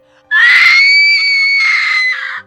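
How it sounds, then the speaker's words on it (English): A woman's sustained, high-pitched scream voiced by a narrator reading a dark fan-fiction story, loud and continuous for about two seconds with no other talk. "She screamed."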